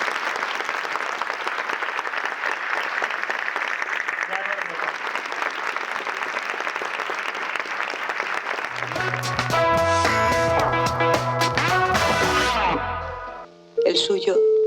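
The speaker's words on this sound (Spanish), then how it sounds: "creo que se merecen un fuerte aplauso." A crowd at a tribute event in Candeleda honoring Ana Mariscal breaks into sustained, loud applause for several seconds, which then gives way to music.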